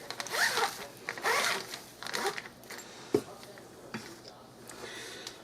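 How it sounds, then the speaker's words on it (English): A zipper is drawn along a pie bag holding a rolled pie crust, with several rasping strokes in quick succession and then a few lighter zip sounds and small handling noises. "I'm just going to lay this pie crust in the middle of my pie bag and zip it up."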